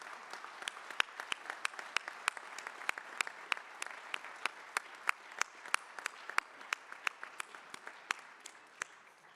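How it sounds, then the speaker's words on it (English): Scattered clapping from a small group at a groundbreaking celebration for the Huntsman Cancer Institute in Vineyard, individual claps distinct and irregular, moderately distant and fairly quiet throughout. "Let's have a round of applause for all of these amazing supporters of this project."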